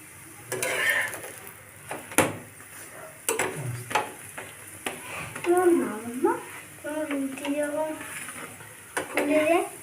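An aloo paratha fries and puffs in a pan, soft sizzling under clinks and scrapes of a utensil against the pan, close by, with a voice speaking intermittently.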